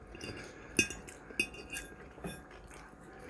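A fork clinks sharply against a dish twice, then taps lightly a few more times, faint but close, over a quiet background during a meal.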